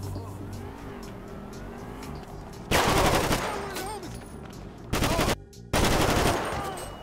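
Video game gunfire in GTA 5 erupts in loud, dense bursts over background traffic and engine noise, with three separate volleys that stop and restart.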